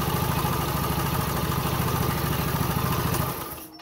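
A motorcycle running on a double-battery setup idles after an electric start, a steady close rumble with light clatter that drops away and cuts off near the end.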